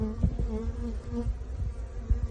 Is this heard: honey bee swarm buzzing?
yes